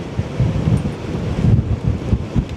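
Strong gusty wind, around 25 km/h, buffeting an outdoor microphone beside the Westerschelde waterway, a loud continuous rumble with surging gusts and no talk.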